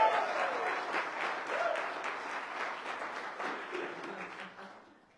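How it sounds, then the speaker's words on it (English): A church congregation claps for several seconds during a Sunday sermon service, a full, steady round of applause that gradually fades out. "Everyone give James a big round of applause."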